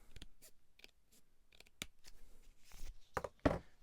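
Something being cut open with scissors: a series of short, sharp snips and rustles up close, sparse at first and then busier toward the end.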